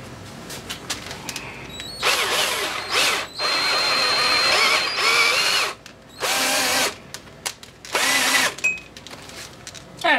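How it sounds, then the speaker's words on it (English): A power drill whirs in several bursts of a few seconds each, drilling a bolt hole while working on a Yamaha 15 hp two-stroke outboard motor, close and loud, with short pauses and clicks between runs. "I'll drill a hole there, and we'll see if we can get this to bolt up."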